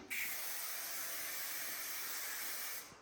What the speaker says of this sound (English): I just spray it.